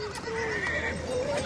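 A horse neighs loudly and close by in a long, wavering whinny over a busy outdoor background at a Portuguese equestrian event in Golegã.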